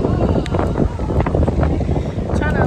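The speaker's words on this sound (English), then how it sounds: "I hope y'all can hear me because it's extra windy." Strong gusting wind buffets the microphone outdoors on a street in Florence, Italy, a loud continuous low roar with rushing bursts throughout.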